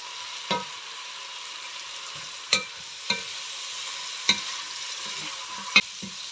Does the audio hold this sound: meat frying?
yes